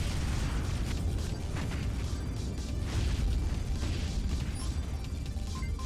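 Ship turrets in the space game Spacebourne fire steadily, producing a dense, continuous roar of booming blasts and mechanical bursts that stays loud and unbroken throughout.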